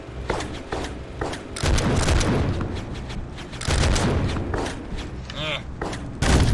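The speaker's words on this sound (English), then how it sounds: "There's going to be some explosions coming my way" Video game explosions boom in quick succession, heavy blasts and gunfire-like bursts that come in loud waves over several seconds, close and punchy.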